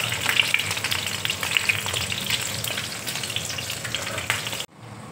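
Cabbage frying in a pan over a gas flame, a steady close sizzle with small crackles that cuts off abruptly near the end, leaving a quiet room.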